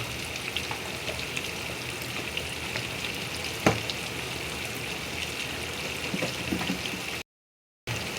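Spices with turmeric powder frying in oil on a stove for olive pickle, a steady close sizzle with occasional stirring scrapes and one sharp clink, no talk over it.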